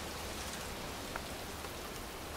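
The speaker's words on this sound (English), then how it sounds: "standing in a cemetery, pouring rain" Pouring rain in a cemetery in the video game Heavy Rain, Mad Jack chapter: a steady, dense hiss of downpour on surfaces, constant and moderately loud with no voices.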